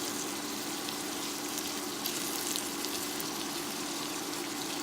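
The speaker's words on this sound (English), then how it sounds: "the bell peppers, onions, and celery in the pan. So these will cook for about 10 minutes. So here, just let them saute for a while." Bell peppers, onions and celery saute in a pan for Cajun shrimp, giving a steady, even sizzle that crackles softly throughout with no one speaking.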